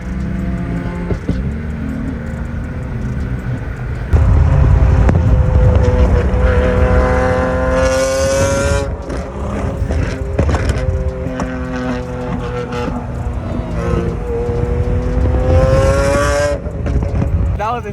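A Veilside RX7, a Lamborghini and a GTR rev hard one after another while spitting flames. Loud rising and falling engine wails and sharp pops come in repeated bursts, close up.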